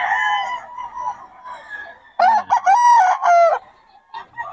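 A lemon sweater bull stag rooster crows in one loud, drawn-out call with a few softer clucks and calls before and after, close by and alone.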